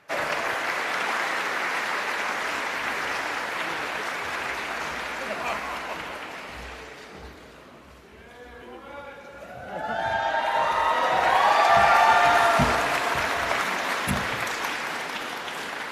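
Opening ceremony crowd giving sustained applause and cheering, dipping briefly midway, then swelling loud again with whoops and clapping from a large audience.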